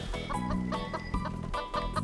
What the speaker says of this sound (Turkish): Senden tavuk sesleri geliyor sürekli.